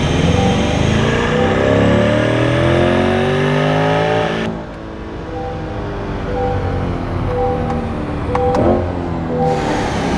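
A C8 Corvette engine revs hard on a dyno pull, a loud rising roar climbing through the rpm range before abruptly cutting off, followed by a lower idling burble with a few pops.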